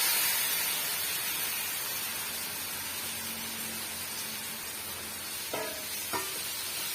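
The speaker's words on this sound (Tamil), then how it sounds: "இப்போ இந்த ஸ்டேஜில் நம்ம அரிஞ்சு வச்சிருக்க தக்காளி பழத்தை சேர்த்துலாம்" Chopped tomatoes sizzle and fry in a pan for tomato rice, a continuous close hiss with two brief clacks of a spoon stirring near the end.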